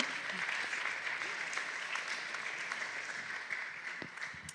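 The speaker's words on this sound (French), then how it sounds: "vous pouvez l'applaudir avec entrain" An audience at a round-table discussion on the future of agriculture claps warmly for a speaker, a steady mid-level patter of applause that thins out toward the end.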